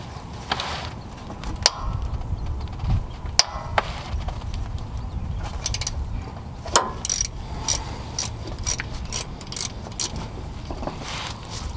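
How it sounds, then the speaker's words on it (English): A ratchet works a bolt loose on the AC compressor of a 2004–2008 Ford F-150, giving irregular metallic clicks and clanks with scattered bursts of rapid pawl ticking. It sounds close but fairly quiet, with no talk. "Might need to use a shorter ratchet to get to that one."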